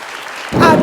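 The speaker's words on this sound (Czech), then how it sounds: "Ještě jednou potlesk pro ní." Burst of applause at a kindergarten spring show for a little girl performer, starting abruptly partway in and swelling into loud, dense clapping from the audience.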